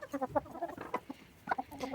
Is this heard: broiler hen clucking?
yes